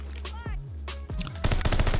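Rapid gunfire through a wall in Call of Duty Vanguard: a few single sharp shots, then a dense automatic burst of close, loud cracks near the end.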